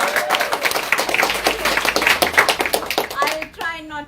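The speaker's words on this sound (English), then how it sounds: "can we give the loudest round of applause to awesome Priya?" An audience gives a round of applause for a presenter named Priya, dense clapping sustained for about three seconds before tapering off, with a voice starting to speak at the end.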